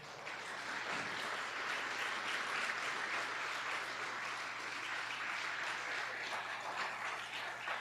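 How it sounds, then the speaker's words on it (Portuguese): A church congregation claps together during a Sunday service, a steady wash of hands lasting several seconds, fairly distant and even with a low hum underneath. "Você pode aplaudir ao Senhor?"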